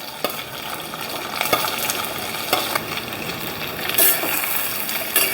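Sesame seeds, curry leaves and dudhi muthiya frying in a pan, a steady loud sizzle with crackling pops and occasional stirring scrapes, close up and without talk.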